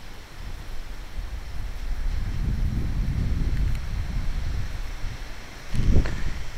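Strong gusts buffet the microphone in a steady low roar, swelling through the middle and peaking in a sharp blast near the end, with no talking.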